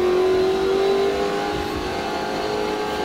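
A Stock Car racing car's engine revs loudly and steadily close by, its pitch rising through a gear change while accelerating on track.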